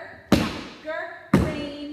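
Tap dance steps in a home Zoom class: two sharp, loud thuds about a second apart, each a ball tap followed by a heel drop, with faint background tone between them.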